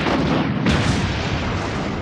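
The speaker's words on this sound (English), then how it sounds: "let's pull out our rocket launcher." Rocket launcher firing in Resident Evil 3: Nemesis, a loud, sustained boom with a rumbling blast that fills the whole moment, no talking.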